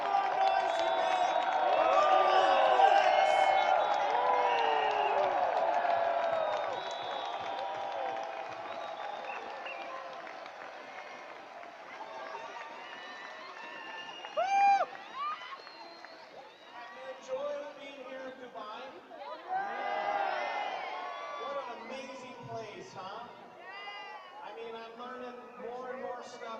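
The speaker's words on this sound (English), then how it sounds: "Give a big round of applause to Mr. Rex Mellon." A large rally crowd at the Forever Global Rally in Dubai claps, cheers and whoops loudly at first, then the applause eases into scattered shouts and bursts of cheering from many voices.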